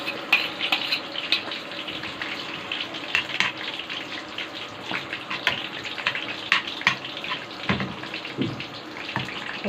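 Eggplant and pepper slices fry in hot oil in a pan, a dense close sizzling crackle with scattered pops and spits, steady throughout and without voices.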